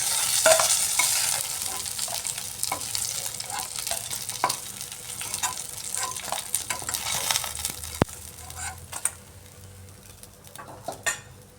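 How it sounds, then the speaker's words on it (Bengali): Rohu fish pieces sizzling in hot oil in a pan, a steady close crackle under repeated stirring and scraping clinks of a utensil against the metal, with no voices. "মাছগুলো ফ্রাই হয়ে গেছে এবার আমি এক এক করে নামিয়ে নিচ্ছি"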